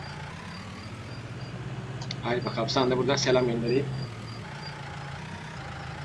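A tractor engine at a threshing site idles with a steady low drone while someone speaks over it, the engine continuing faintly once the talking stops.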